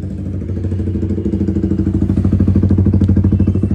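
A modified Yamaha R15 motorcycle idles just after starting, its engine putting out a steady, loud, close-up rhythmic burble with no voices.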